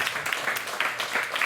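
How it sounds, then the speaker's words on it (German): Audience applause for a professor at an event on water projects in Africa: a short, steady burst of clapping from a crowd that fills the room at moderate volume, with no speech over it. "Applaus für Professor."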